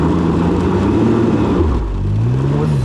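A Can-Am Ryker 900 engine revs up and then drops sharply as stability control cuts the power, heard as a close, steady mid-pitched drone that sags partway through.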